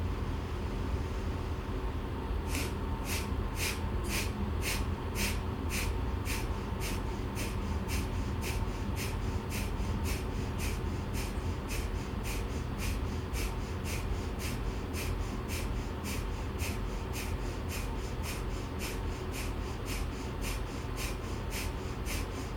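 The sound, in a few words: rapid yogic breath of fire breathing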